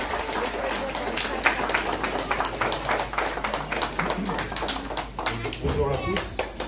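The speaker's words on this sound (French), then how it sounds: "merci de les applaudir." A crowd applauds steadily, many hands clapping in a dense patter that carries on for several seconds.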